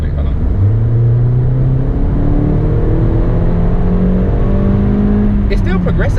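A Mercedes CLA45 AMG's turbocharged engine pulls hard through a curve, a loud, continuous rising drone heard from inside the cabin, with someone talking over it throughout.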